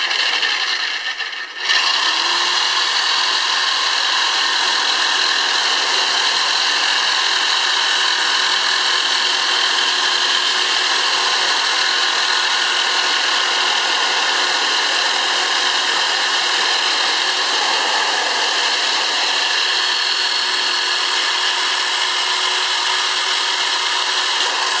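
Power tool cutting a standing seam metal roof panel, a loud, steady, high-pitched whine and grinding that starts abruptly and runs unbroken for over twenty seconds, close by and without talk.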